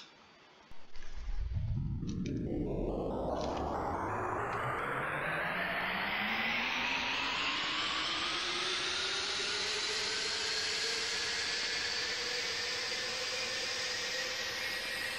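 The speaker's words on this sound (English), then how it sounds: "Let's start the engines." Jet airliner engines spool up in Roblox Aeronautica, on a Chinese copy of the Boeing 720: after brief quiet a rising whine climbs steadily in pitch, then settles into a loud, sustained roar with high turbine whistle, no talking.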